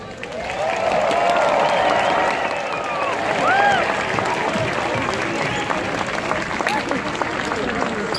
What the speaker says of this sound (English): would members of the cast please kindly give our marvelous audience a hearty round of